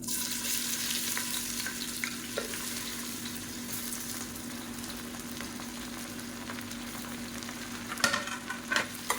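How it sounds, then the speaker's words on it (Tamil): Long sliced onions sauté in hot oil for mutton biryani, a steady close sizzle with a constant low hum beneath, broken by occasional scrapes and a few louder utensil knocks near the end; nobody speaks. "இதை நல்லா வதக்கி விட்டுக்கலாம்."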